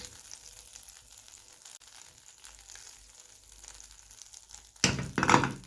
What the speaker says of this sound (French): Donc je mets les oignons. Je laisse caraméliser doucement à feu doux.